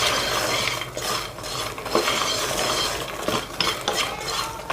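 Fried makhana lotus seeds tossed with chaat masala and ghee in a pan: continuous close scraping and rustling of a spoon stirring the dry, crisp seeds against the metal.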